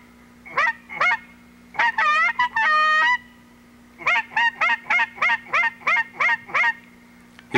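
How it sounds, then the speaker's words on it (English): Geese honk in a rapid series of loud, nasal calls, sometimes grouped and sometimes single, answering duck hunters' calling, over a steady low hum. "we can see the geese turn towards us, responding to the expert calling of Bob Jurat and Jim Shruga."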